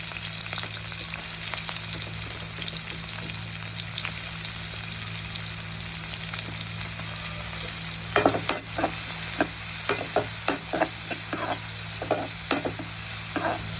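Onions fry in oil with green chillies in a pan, giving a steady sizzle throughout, joined midway by a run of scraping, clattering stirs from a spoon; no one speaks.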